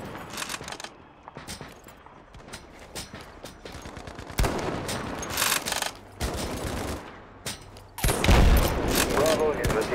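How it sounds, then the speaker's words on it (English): Bursts of rapid automatic gunfire and heavier blasts from the Battlefield Mobile video game, loud and sustained across the clip, with brief game voice lines between volleys. "Bravo is receiving enemy fire."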